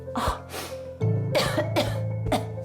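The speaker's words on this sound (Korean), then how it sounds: "오래전부터 기침을 달고 살았다는" A run of harsh, wet coughs, about five bursts in quick succession, close and loud, with a steady low hum underneath.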